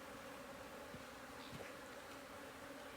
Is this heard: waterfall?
no